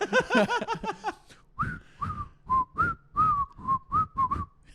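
A person whistles a short tune up close: a quick warbling run, then a series of separate, evenly spaced whistled notes.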